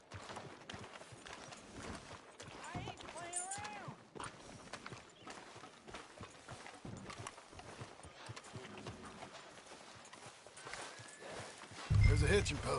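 Horse hooves clip-clopping at a walk in Red Dead Redemption 2, a steady rhythmic plodding heard under ongoing conversation, with a louder thump near the end.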